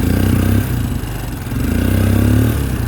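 A 2000 Arctic Cat 300 4x4 ATV engine runs steadily near top throttle in first and low gear, a loud continuous mid-pitched drone with a slight dip partway through and a rattling clatter alongside.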